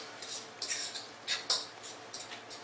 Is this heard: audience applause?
no